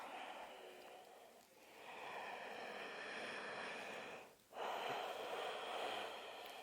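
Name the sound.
deep yoga breathing in and out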